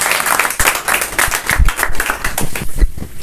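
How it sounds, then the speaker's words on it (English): Scattered applause from an indoor audience greeting a guest at a classroom-style session, crisp claps overlapping at an uneven rhythm for about three seconds, fairly loud and close with no talking. "let's give a huge round of applause for Mr. Himanshu sir."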